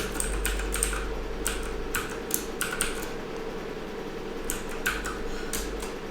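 Fingers type a username and password on a computer keyboard during an SSH login in a networking lab, producing close, irregular bursts of crisp key clicks over a steady low hum, with no talking.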